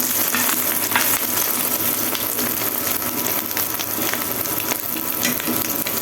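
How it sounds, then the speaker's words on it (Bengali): An egg fries in hot oil in a pan with a loud, dense, continuous sizzle and crackle that stays steady throughout, close by and with no talk. "এই যে আমি ডিম ভেজে নিচ্ছি।"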